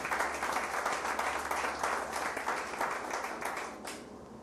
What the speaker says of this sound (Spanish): De un aplauso al Señor Jesús.